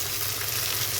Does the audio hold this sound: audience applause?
no